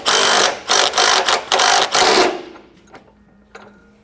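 A power tool loosens body-mount bolts on a Toyota 4Runner-type truck frame in five loud, close, rapid mechanical bursts, then falls away to a few faint clicks and rattles.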